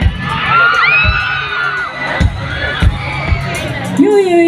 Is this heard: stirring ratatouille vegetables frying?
no